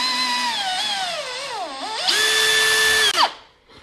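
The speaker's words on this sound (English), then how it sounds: "Just want to drill the holes. I'll go with a 3mm drill bit." Power drill with a 3mm bit boring pilot holes for a door lining, whining up and down in pitch, then a steady high-pitched run before winding down, close and fairly loud.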